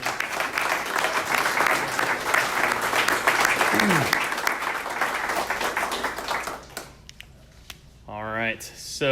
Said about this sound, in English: One more round of applause for all our presenters today.